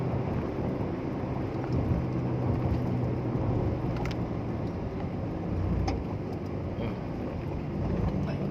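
A car with a stumbling engine that has been using too much fuel runs steadily in third gear, a low rumbling drone with wind noise over it.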